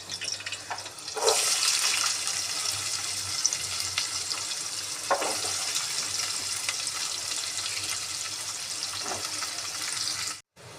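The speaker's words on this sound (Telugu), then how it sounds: "ఉల్లిగడ్డ కూడా మంచిగా వేగిందండి" Chopped onions frying in hot oil in a pan for a Telangana-style chicken curry, a steady, close sizzling hiss that holds evenly from start to finish with no talking.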